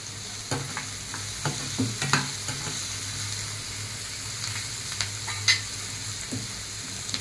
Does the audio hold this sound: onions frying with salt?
yes